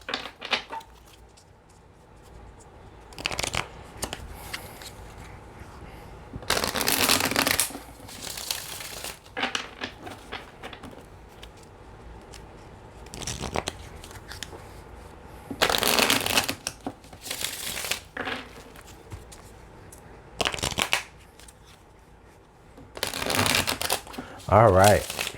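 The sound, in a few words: shuffling cards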